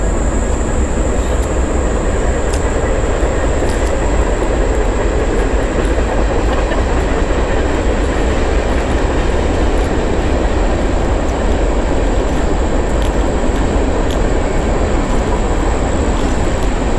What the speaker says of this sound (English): We got another freight train coming.